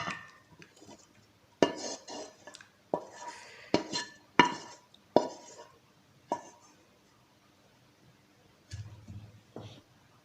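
Cooked plum chutney being served from a pan into a dish, heard as a series of sharp metallic spoon clinks and scrapes against cookware, spaced irregularly with quiet gaps between them.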